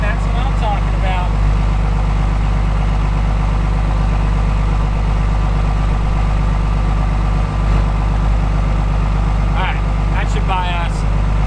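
A Ford OBS truck with a 7.3 diesel runs at high idle, a loud, steady, low rumbling clatter that holds constant throughout, with someone talking briefly over it at the start and near the end.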